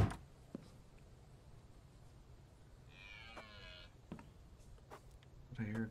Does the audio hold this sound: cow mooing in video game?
yes